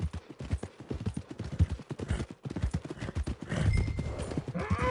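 A horse gallops in a video game, with rapid rhythmic hoof clip-clops throughout and a brief neigh near the end, loud and close.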